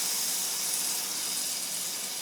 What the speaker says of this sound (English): we're just gonna get our sauce going right here and just stirring it up